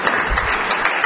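Audience applause in a city council chamber, a brief burst of many hands clapping, dense and fairly loud, with a voice faintly present underneath.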